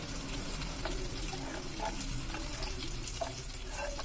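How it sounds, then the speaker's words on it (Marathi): Konkani fish curry mixture being stirred in a pot over a low flame, giving a steady soft bubbling and scraping texture with faint clinks, continuous and close throughout with no talking. "आता हे थोडं ढवळून घेऊया मिश्रण."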